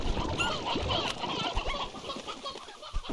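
Several chickens in Slime Rancher 2 cluck and squawk busily, overlapping in a constant, close chatter.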